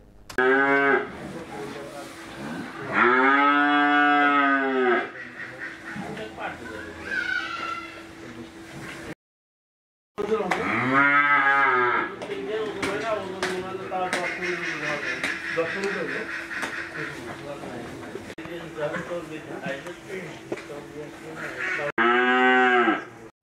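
Cattle on a small farm in Bangladesh moo repeatedly, with several loud drawn-out calls close by, separated by a brief silent gap, and a voice talking over parts of the stretch.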